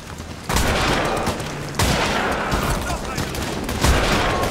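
Gunfire in the horror video game Amnesia: The Bunker, loud dense blasts with sharp onsets roughly every one to two seconds, each trailing into a rough noisy wash.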